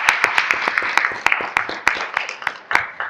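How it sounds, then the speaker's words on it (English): Board meeting audience applauding accomplished women being honored, a loose crowd clap with distinct sharp individual claps popping out from a steady mass of hands, some murmured talk underneath. "Another round of applause for our accomplished women that we recognize"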